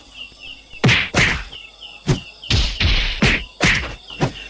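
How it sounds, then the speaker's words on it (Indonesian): Audio drama sound effect with a faint crackling bed under a series of sharp, loud booming hits, each followed by a short decay, spaced unevenly across the passage. "dikejutkan dengan suara gemeretak yang diakhiri dentuman keras 3 kali"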